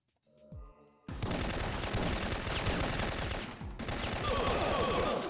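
Gunfire from the Syphon Filter video game: after a short electronic tone, dense rapid automatic bursts roll on almost without a break, loud and close, with a brief dip partway through.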